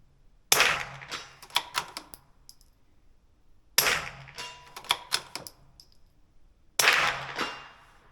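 Three bursts of sharp .22 LR rifle gunshots from a Retay Sporter, each a rapid cluster of cracks, separated by short silences, fairly close.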